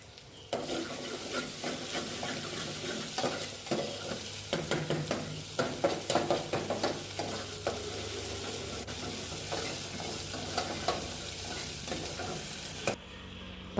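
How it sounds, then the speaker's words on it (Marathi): Chopped onion, ginger and garlic frying in oil in a pan for an aloo matar curry, a loud continuous sizzle broken by rapid clattering strokes of a spatula stirring, close up with no talking. "कांदा आपला आता शिजलेला आहे अर्धा, त्याच्यामध्ये आलं लसूण टाकायचं, आणि दोन्ही मस्तपैकी असं करपूस रंगावरती भाजून घ्यायचं।"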